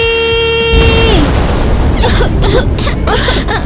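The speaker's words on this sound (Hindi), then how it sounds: "ये क्या था? ईवा का धमाका था" A loud, roaring blast follows a bright held tone that bends downward, leaving a sustained rumbling wash of noise.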